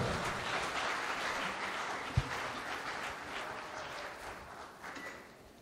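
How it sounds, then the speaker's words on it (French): An audience at a general assembly of a political movement applauds after a president's speech, with sustained, fairly distant clapping from a crowd that slowly tapers, plus one sharp thump partway through. "Je vous prie de l'acclamer encore une dernière fois."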